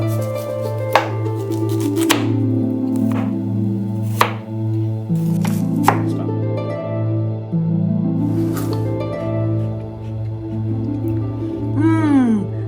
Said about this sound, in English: Begin by peeling and chopping the jicama.